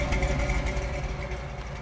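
Hurst Cutlass engine idling, a steady low rumble with a faint mid-range hum running evenly throughout at close range, with no talk over it.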